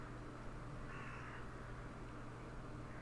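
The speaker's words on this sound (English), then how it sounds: "Crows." Crows cawing as part of a tabletop game ambience track set in a swamp, a brief harsh call over a steady low background drone, with no talk.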